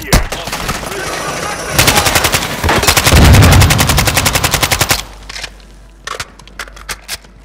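Rapid automatic gunfire from a combat engagement in a shooter game, loud dense bursts of shots building to a sustained volley, then sparser single cracks and short bursts trailing off.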